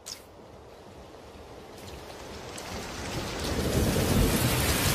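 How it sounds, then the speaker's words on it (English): Steady heavy rain with rolling thunder, a broad hiss that swells and grows louder toward the end, no voices. "Rain!"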